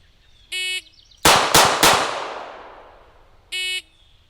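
Three sharp handgun shots crack in quick succession during point shooting at about nine feet, loud and close, their echo decaying, bracketed by two short electronic shot-timer beeps before and after.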